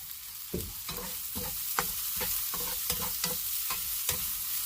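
Onion and mushroom sautéing in a pan in a van, a steady hiss of frying broken by regular scraping strokes of a utensil stirring, close and moderately loud with no speech.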